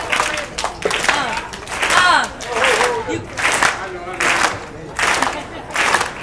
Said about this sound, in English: So we're gonna need y'all to start a beat for us, right? Claps.